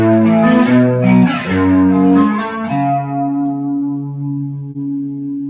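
An electric guitar set between the neck and middle pickups plays a smooth, slightly dirty chorus-and-echo tone of arpeggiated notes, loud and close, ringing out and fading with no talk.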